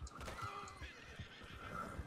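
A horse in the Red Dead Redemption video game lets out a whinny that rises out of a dense, busy game soundscape, with a second neigh toward the end and faint hoof clatter underneath.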